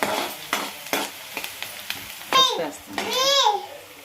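Chopped onions hiss and crackle in hot oil while being stirred, with scraping strokes at a loose, uneven rhythm and voices, including a child's, talking over the frying.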